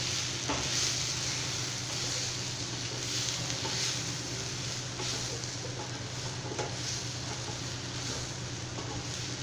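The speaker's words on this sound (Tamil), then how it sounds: "இப்போ இது எல்லாமே சேர்த்துட்டு நல்லா கலந்து விட்டுறலாம்" Raw banana fry with salt and coconut is stirred in a hot pan, giving a steady, close sizzle with faint scraping running throughout, no voices.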